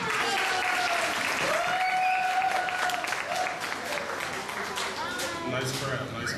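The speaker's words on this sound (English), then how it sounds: "Clap it up for Portia again." Crowd at an African American festival applauding steadily, a dense sustained clapping that eases slightly toward the end, with cheering voices and talk over it.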